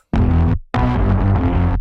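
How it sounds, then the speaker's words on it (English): A bass loop sample for a track plays in two phrases, a short first burst, a brief gap, then a longer sustained run of deep, tonal bass notes, loud and close with no voices. "I was inspired by this loop"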